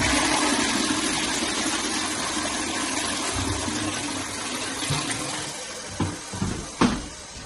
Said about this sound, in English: time to test the loo